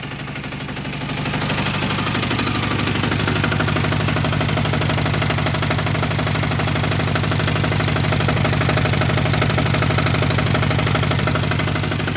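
A DTZ walk-behind tractor's engine runs close by with a loud, steady, throbbing drone that settles into an even rhythm after the first second and holds without pause, with no voices over it.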